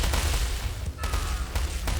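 Rapid bursts of sniper fire and light cannon shots in the strategy game War Selection, dense overlapping reports in quick succession, loud and continuous throughout.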